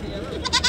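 Sheep let out a short, loud bleat near the end of a quick moment, a nasal, wavering cry rising after a brief stretch of low background noise.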